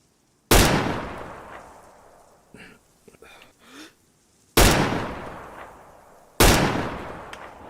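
Three loud, sharp gunshots crack out in the DayZ video game, each followed by a fading echo tail, with faint shuffling and movement sounds between the first and second shots.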